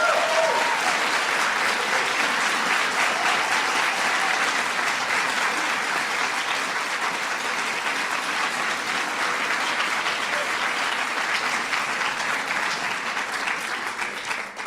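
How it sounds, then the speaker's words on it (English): Sustained applause from a large theater audience at a Kennedy Center Honors reception, a dense, steady roar of clapping that holds strong for the whole stretch and only starts to ease near the end. "Give her a big round of applause."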